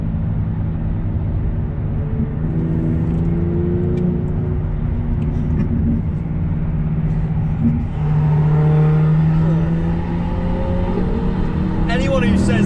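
A Ferrari Pista V8 supercar drives past on the road, its engine droning loud and close and rising in pitch as it accelerates, with someone talking over it.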